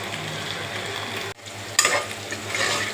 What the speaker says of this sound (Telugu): బెండకాయలు మంచిగా గోలినాక చేసినాక మసాలా వేసుకోవాలి.